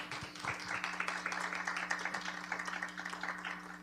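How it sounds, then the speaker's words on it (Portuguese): Audience clapping for a presenter at an academic research session, a moderate, fairly quiet patter of many hands over a steady low electrical hum, continuing evenly for a few seconds. "vamos bater uma palmas para a Marcelene"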